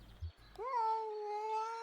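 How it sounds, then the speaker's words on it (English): A cat howls in the video game Kentucky Route Zero: one long, loud, wavering yowl that rises sharply and then holds steady, following a brief low rumble. "Hearing a cat howl like that is scary."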